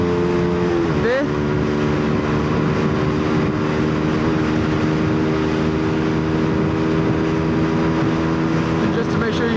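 A motorcycle engine drones loudly and steadily up close, with one quick shift-like dip early on as it pulls through the gears during a ride.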